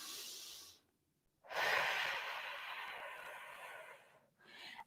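Slow, deep breathing during a seated chair yoga session for hip mobility: a long, airy exhale of about three seconds after a short pause, then a softer breath beginning, close and steady with no talking.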